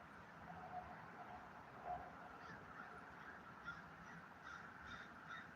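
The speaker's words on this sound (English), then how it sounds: "You see how the crows are screaming?" Faint crows caw now and then against a low outdoor hum, their harsh calls scattered and distant, with a few brief higher chirps in between.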